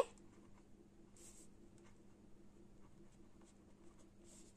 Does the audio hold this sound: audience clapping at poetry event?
no